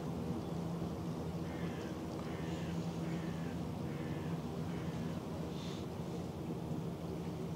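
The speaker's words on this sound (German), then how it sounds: "Aktuell etwas Regen" Light rain falls steadily, a soft, even hiss throughout with faint low rumbling underneath, fairly quiet and distant.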